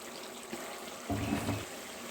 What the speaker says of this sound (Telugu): చింతపండు పులుసు పోసుకుంటున్నాం